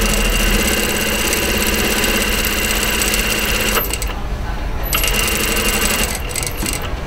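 Domestic sewing machine stitching a cuffed sleeve, a steady close mechanical whir and rapid stitching rhythm that pauses briefly twice before resuming.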